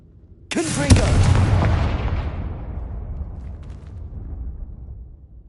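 A Confringo blasting spell explodes in Hogwarts Legacy, a sudden loud burst with a crackling fiery flare, then a long rumbling tail that fades slowly over several seconds.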